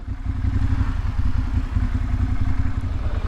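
A Ducati motorcycle rolls past on a mountain road near Nederland, its low engine rumble and clattery throb holding steady and fairly close for a few seconds.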